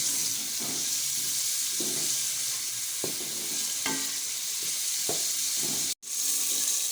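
Spices and tomatoes frying in a pan for dhaba-style moong dal, a steady close sizzle with a few spoon scrapes and stirring clatters, and one brief dropout near the end; no talking.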